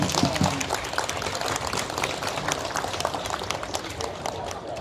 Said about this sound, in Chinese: 我请大家鼓掌一下。